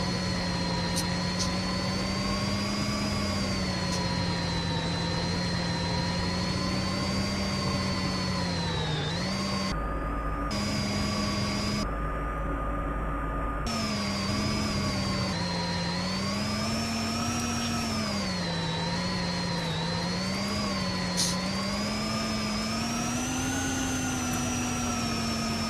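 Electric Formula E race cars in a racing video game set at the Monaco ePrix, heading back into the pits: a steady, loud, whining drone that slides up and down in pitch, with a couple of brief dropouts and no voices.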